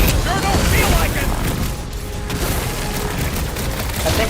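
Dense, chaotic gunfire and blasts from combat in Marvel's Guardians of the Galaxy video game, heavy and continuous, with voices shouting over the battle.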